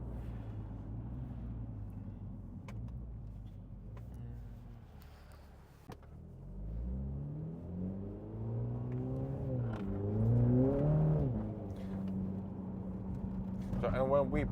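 A MINI John Cooper Works GP3 track car's engine drones and then revs up while driving, rising and falling in pitch from inside the cabin, with someone talking over it.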